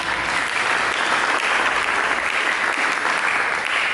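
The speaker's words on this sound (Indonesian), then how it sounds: "Berikan tepuk tangan." A church congregation claps together in sustained, dense applause during a sermon service, loud and steady throughout with no voices breaking through.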